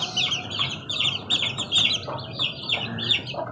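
A gold Asil gamefowl rooster gives repeated short chirps and clucks in close succession, fairly faint and close, with light background noise and no talk.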